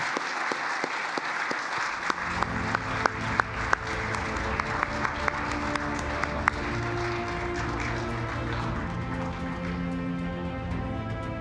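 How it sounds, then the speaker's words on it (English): Applause and cheering from the audience at a local government awards ceremony as an innovation award winner is announced, sharp individual claps at first, then swelling into dense, sustained clapping that fills the hall. "From the sound of that cheer"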